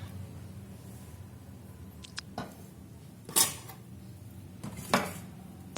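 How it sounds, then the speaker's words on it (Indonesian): Garlic pounded in a mortar, heard as a few irregular, sharp knocks and clinks spaced across a quiet background, with no speech. "Kita tumbuk sampai halus ya bawang putihnya"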